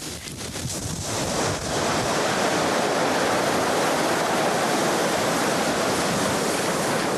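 Ocean surf crashes and washes steadily against a volcanic lava coast, a loud, broadband roar that builds after a brief softer opening and then stays dense and unbroken, with wind-like rushing mixed in.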